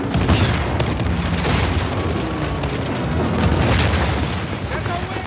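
A heavy RPG rocket explosion in the action game Uncharted 4 booms loudly and rumbles on through the whole stretch amid scattered gunfire, with a voice talking over it.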